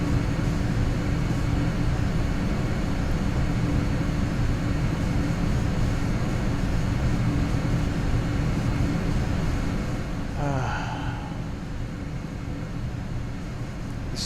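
A LearJet flies over a runway in Microsoft Flight Simulator X, a steady, loud engine roar and broadband hiss that drones on continuously, easing slightly near the end, with no voices.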